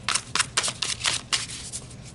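Tarot reading cards shuffled by hand in quick riffling bursts, several crisp flutters in a row, close and dry with no talk.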